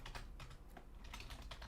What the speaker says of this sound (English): I need to type that twice.